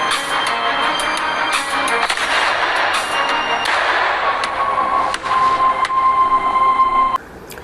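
Dense, rapid gunfire crackles and booms continuously in a dramatic war scene where a young child fires a gun recklessly, with loud bursts layered over a busy background that cuts off near the end.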